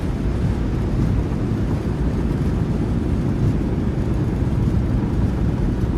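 PMDG 737-800 thrust reversers roaring during landing rollout in MSFS2020, a steady, loud, low rumbling wash of engine noise that holds constant and close throughout, with no talking.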